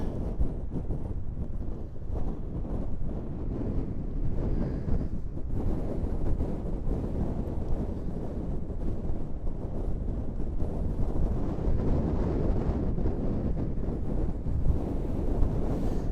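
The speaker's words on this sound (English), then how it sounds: "because of the extremely strong wind" Strong wind on the Scottish coast battering the microphone, a loud unbroken roaring rumble with gusty surges throughout, no other sounds standing out.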